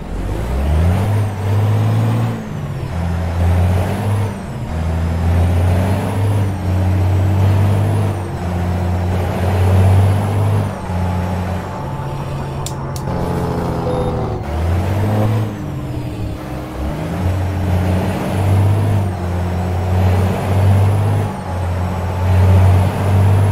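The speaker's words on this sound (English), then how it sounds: "This motor flying through those gears." A loud, droning truck engine in American Truck Simulator revs up and drops repeatedly as it shifts through gears, with steady rising pitch sweeps between each shift.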